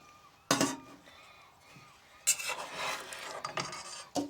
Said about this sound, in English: Even though we're not supposed to lift the lid and stir rice, I need to with this pot.